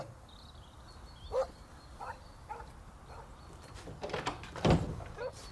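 A dog on Boxing Day barks a few scattered, short times at moderate distance, with a door-like knock between the barks and a quiet background.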